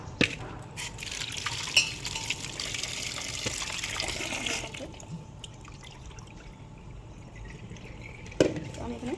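Tap water runs and splashes steadily while potatoes are rinsed for boiling, a broad wash of sound through the first half that drops to quieter handling, with a couple of sharp knocks.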